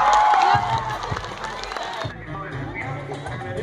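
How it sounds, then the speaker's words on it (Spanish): An audience at a school song-and-speech program applauds and cheers, with a burst of crowd noise at the start that settles into lighter clapping and murmuring voices. "El aplauso es para todos ustedes"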